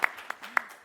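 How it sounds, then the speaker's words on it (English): A handful of sparse, separate claps from a small audience at a city commission meeting, brief and fairly close. "Let's clap for that."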